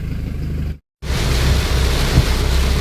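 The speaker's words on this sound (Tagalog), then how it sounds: "inabutan na tayo ng napakalakas na ulan" Heavy rain during a thunderstorm roars steadily close by, a loud broadband wash that cuts out briefly for a moment, then resumes even stronger with low rumbling underneath.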